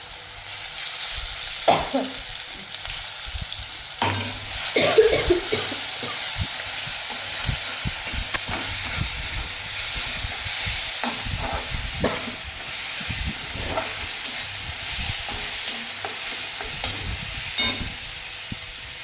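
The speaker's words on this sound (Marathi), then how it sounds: "हिरवी मिरची, कोथिंबीर, लसूण पेस्ट टाकून घेऊया आपण तेलामध्ये." Green chili, coriander and garlic paste sizzle and fry in hot oil, a steady crackling hiss throughout with occasional sharper pops and stirring clatters, close and fairly loud with no talking.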